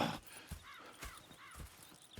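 Horses at a camp in the video game Red Dead Redemption 2, a few soft hoof clops at a slow walking rhythm with faint snorting, quiet and nearby, and no one speaking.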